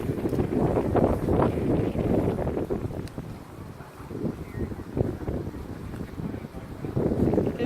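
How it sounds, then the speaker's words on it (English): Wind buffets the microphone by the water at Treasure Island, Florida, a steady low roar that swells in gusts and eases midway, with faint voices beneath. "I know, it is really windy."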